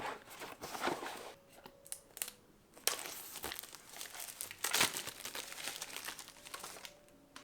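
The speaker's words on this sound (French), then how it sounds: "Aujourd'hui je vous retrouve dans une nouvelle vidéo pour ouvrir des colis avec vous" Parcels being opened at close range, with crinkling packaging and paper rustling and tearing in irregular bursts, plus occasional crunches and handling noises, at moderate loudness.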